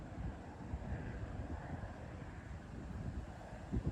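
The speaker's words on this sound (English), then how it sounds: "And the wind's all over the place." Gusty wind buffets the microphone on a golf course, a steady low rumble with swelling surges that build louder near the end, with no voices.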